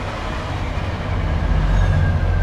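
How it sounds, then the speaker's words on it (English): A train rumbles past nearby with a steady low roar that builds slightly louder toward the end, heard while standing beside an RX-7 with a Porsche 944 steering wheel fitted. "Train just went by."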